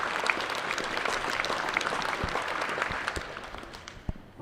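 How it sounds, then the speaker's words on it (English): A crowd applauds a shot steadily at moderate distance during a short mat bowls final, the clapping thinning out and fading toward the end. "You hear the applause from the crowd there, appreciating that shot."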